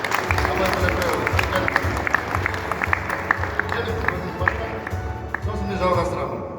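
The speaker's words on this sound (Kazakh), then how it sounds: "Қолдасаңыздар, қол шапалақтайық." Applause at a ceremony in a defense ministry museum in Astana, a crowd clapping steadily and fairly loudly throughout, with a voice speaking over it.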